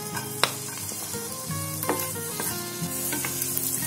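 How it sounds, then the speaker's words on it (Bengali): Chopped garlic sizzles steadily in lightly heated oil over a medium gas flame, with a few clinks from stirring, a close and continuous fry for a bread egg roll. "হালকা করে রসুনটাকে ভেজে নিচ্ছি।"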